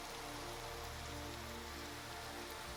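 Steady rain falling in a Minecraft TerraFirmaCraft modpack world, a dense, even hiss of drops on surfaces that holds at the same level throughout with no talk over it.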